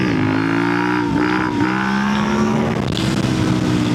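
A KOVE 800X Rally motorcycle accelerates hard in third gear, its engine note rising steadily, dipping briefly at gear changes, then climbing again. Loud and close, with steady wind rush throughout and no talking.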